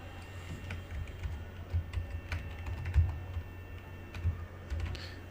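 Soft, irregular clacks of keys typed on a computer keyboard, quiet and close, in short uneven bursts over a low background hum.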